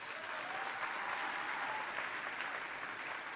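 Audience at the COAL SAFE 2024 event applauding Zinhlanhla Mafu, a dense, even wash of clapping that holds steady at moderate volume, with no speech over it.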